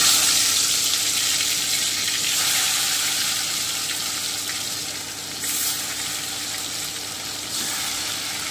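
Marinated chicken hits hot oil in a pan, giving a steady, bright sizzling hiss that runs continuously with small surges as the pieces settle.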